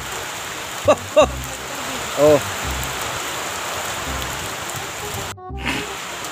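Heavy rain and wind on a bamboo roof of a nipa hut, a steady dense rushing hiss throughout, with a few brief voices and exclamations over it.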